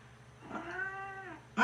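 A cat in a bathroom, staring at its own reflection in a mirror, lets out a single clear, drawn-out meow up close, followed by a sudden louder burst of sound.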